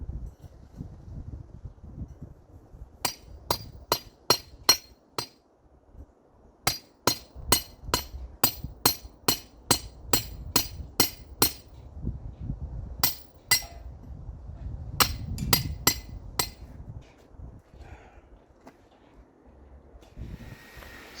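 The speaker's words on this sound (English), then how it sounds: "these are the fence post spikes that will be driving into the ground with a hammer" A hammer drives metal fence post spikes into garden ground outdoors, striking in sharp, ringing metallic blows, quick bursts of several hits separated by short pauses, close and loud over light outdoor background.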